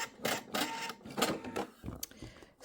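A sewing machine stitches a faux welt pocket on pants in short, separate mechanical bursts of a stitch or two, close up with brief pauses between runs.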